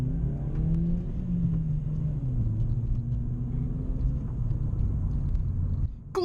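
A Vauxhall Corsa E with a 1.4-litre 75 BHP engine drives and accelerates, a steady low engine rumble rising and falling in pitch through gear changes, heard from inside the cabin, moderately quiet, with no voices.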